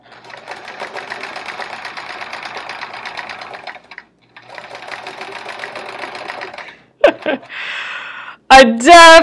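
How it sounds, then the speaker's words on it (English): A domestic sewing machine stitches during free motion quilting in two choppy, rapid bursts with a short pause between, followed by a few clunks and brief speech. "Wow, we're sounding pretty choppy, but it still looks like it's sewing okay."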